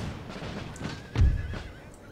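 Cavalry horses in the strategy video game Empire: Total War, a clear whinny over a faint rumble of battle, with a low thud in the middle and soft hoof clatter.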